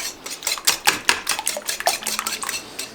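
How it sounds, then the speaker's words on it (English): A whisk beats eggs in a bowl with quick, sharp metallic clinks in an uneven rapid rhythm, close and fairly loud, with no voices. "Using a whisk helps to put air in the eggs too"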